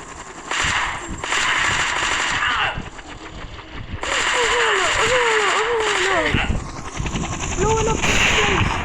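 Bursts of video game gunfire and explosions fill a helicopter escape level, loud dense volleys separated by brief lulls, with swooping whistling tones mixed in.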